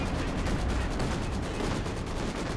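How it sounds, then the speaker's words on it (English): Siege barrage artillery shells from Company of Heroes 2 pound down in a dense, continuous roar of overlapping blasts and rumbling fire, loud and sustained with no pauses. "And one last shot from the siege barrage."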